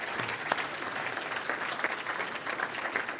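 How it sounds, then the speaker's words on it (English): An audience at a Jewish law symposium applauds its panelists, a steady patter of many hands clapping at moderate distance, fairly quiet, with a few sharper individual claps standing out. "Let's give our panelists a round of applause"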